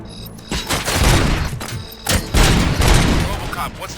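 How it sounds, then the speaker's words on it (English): Bursts of gunfire in the video game Robocop: Rogue City, several loud volleys with short gaps between them, mixed with a voice talking. "Gunshots? What's going on?"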